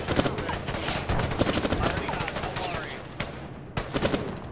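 Rapid bursts of German machine gun fire in a World War II video game battle at the Sandomierz bridgehead, loud and close, crackling in dense overlapping volleys with brief pauses near the end.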